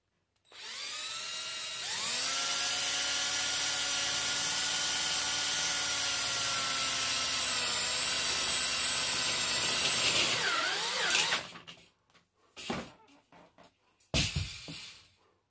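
Power drill driving a screw into an aluminum fishing cart rod holder, a loud continuous whine for about ten seconds that winds down, followed by a few short bursts of drilling.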